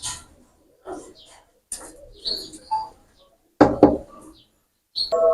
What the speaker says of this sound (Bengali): এই আর এক পেয়ার ওমান টেডি কবুতর দেখেন